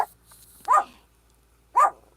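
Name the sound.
dogs barking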